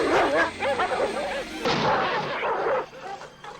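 Dogs barking and yipping in a scene from the 1988 movie Mac and Me, a dense run of excited barks with whimpers and scuffling under loud scene noise, briefly cut partway through.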